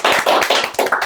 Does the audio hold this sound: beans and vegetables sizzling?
no